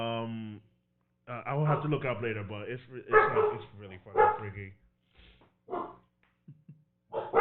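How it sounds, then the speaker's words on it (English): Dogs bark and whine somewhere in the room during a casual anime-podcast chat. A drawn-out canine whine opens the clip, then lively talk by several people dominates. "I apologize about the dogs."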